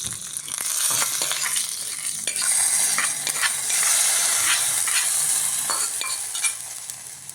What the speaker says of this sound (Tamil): கருவேப்பிலையும் சேர்த்து தாளித்து கொட்டிடலாம்.